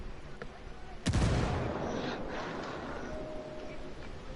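A frag grenade explosion in a video game: one sudden loud, deep blast that decays into a rumbling tail over a few seconds, with faint voices in the background.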